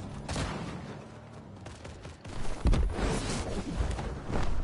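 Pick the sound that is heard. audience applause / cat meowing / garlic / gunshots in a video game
gunshots in a video game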